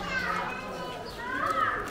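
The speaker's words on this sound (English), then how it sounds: "Kids playing on the swing." Children play and call out on a swing in a busy outdoor spot in Peshawar, Pakistan, their voices mixing in a steady, lively background hum.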